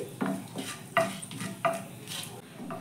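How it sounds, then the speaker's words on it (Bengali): Whole spices and a bay leaf fry in a pan over a medium-low gas flame, with a soft sizzle under a few distinct scraping stirs of a spoon against the pan. "এবার এই মশলাগুলোকে একটু ভেজে নেব যতক্ষণ না মশলা থেকে সুন্দর একটা মিষ্টি গন্ধ বেরোচ্ছে।"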